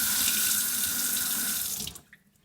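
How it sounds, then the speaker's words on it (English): Water runs steadily from a regular kitchen faucet into a sink in a continuous, close rushing hiss, then is shut off and fades to near silence at the end. "I'm just going to show you how similar the water flow is. So this is with the regular faucet."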